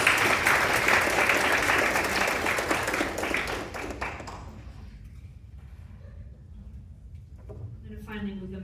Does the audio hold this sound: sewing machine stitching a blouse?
no